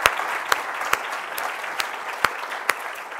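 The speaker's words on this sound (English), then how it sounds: "So applause might be appropriate." An audience at an evening university public lecture applauds, a steady wash of many hands with a few sharp, close claps punctuating it at irregular intervals.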